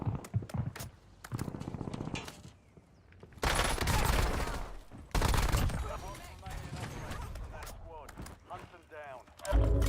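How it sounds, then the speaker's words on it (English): Light machine gun bursts ring out in a Rebirth Island battle royale match, loud rapid volleys with sharp gaps between them, mixed with a voice talking over the action. "I'm loving this LMG."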